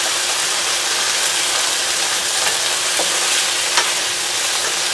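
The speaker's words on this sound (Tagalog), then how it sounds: "Ito, ilalagay na natin ang ating beef mechado." Beef for mechado is added to a hot pan and fries loudly, a dense continuous sizzle with scattered crackles and pops, close and without voices.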